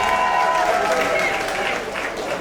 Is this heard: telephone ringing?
no